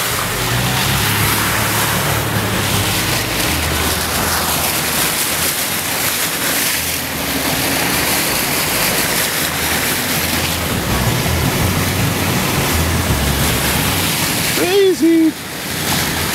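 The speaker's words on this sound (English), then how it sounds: "And now I have to cross a torrent. The road is completely washed out here." A car drives through a torrent across a completely washed-out road, about a foot of floodwater, with constant loud rushing, churning water and engine rumble throughout and a brief squealing sound near the end.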